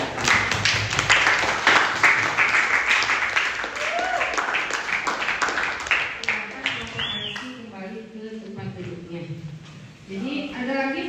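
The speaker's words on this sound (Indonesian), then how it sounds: "Tepuk tangan." Classroom applause after a group presentation, a steady patter of many hands through the first half that fades out, giving way to voices and talk near the end.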